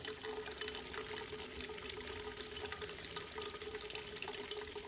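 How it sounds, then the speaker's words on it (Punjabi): Homemade desi ghee pours steadily through a sieve into a container, a continuous close liquid trickle with no talking. "ਇਹਨੂੰ ਆਏ ਛਲਣੀ ਦੇ ਨਾਲ ਛਾਣ ਕੇ ਦੇ ਵਿੱਚ ਡੱਬੇ 'ਚ ਪਾਓ"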